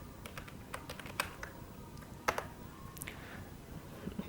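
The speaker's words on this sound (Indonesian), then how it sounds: "kita ketikkan if config" Keys on a computer keyboard tap out a short terminal command, a sparse, irregular patter of light clicks with a couple of firmer presses, faint and close.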